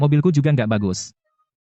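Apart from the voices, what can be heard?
No everyday noises stand out.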